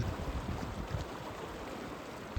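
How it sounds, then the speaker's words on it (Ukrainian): A spring river babbles over stones, a continuous, soft rushing and gurgling of flowing water heard close by with no voices over it. "шум води, він завжди дуже приємний для слуху"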